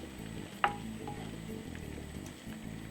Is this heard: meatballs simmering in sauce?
yes